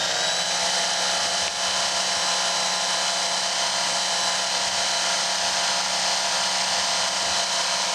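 A Work Sharp knife sharpener runs at a speed setting of about 80, giving a steady, loud motor whine with a constant belt hiss that holds unbroken throughout.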